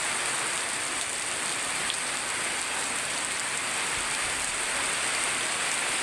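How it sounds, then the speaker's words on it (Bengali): Heavy rain lashes down in strong wind, producing a dense, loud, unbroken roar of rain on surfaces that stays steady throughout with no voices. "প্রচণ্ড বাতাস হচ্ছে এবং প্রচুর পরিমাণ বৃষ্টি"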